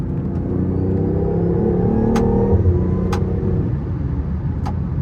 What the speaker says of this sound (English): Just for fun, since we are in sport mode, we'll do a little pull.